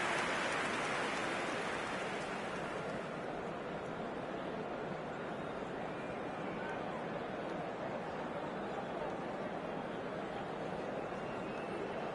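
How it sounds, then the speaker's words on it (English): Heavy rain pours down on a wet night in the eFootball video game, a dense, steady hiss that runs unbroken throughout and sounds close and loud, with a faint crowd murmur beneath. "The rain is tumbling down here by the bucketful"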